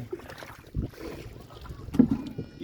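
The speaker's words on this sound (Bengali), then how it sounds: "নৌকাতে স্পিড আছে দেখি" A motorboat travels at speed across water, with uneven rumbling wash and wind buffeting, plus a couple of louder thumps near the end.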